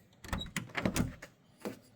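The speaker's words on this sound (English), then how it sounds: "we're going to open up the door." A 1949 Chevy Styleline Sport Coupe door is opened, giving a few close mechanical clunks and latch clicks over about a second, followed by a brief softer knock.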